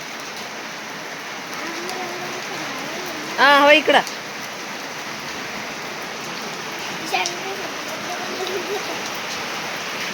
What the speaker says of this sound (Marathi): खूप पाऊस चालू आहे